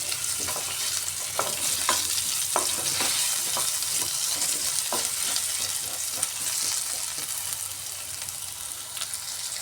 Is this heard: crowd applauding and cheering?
no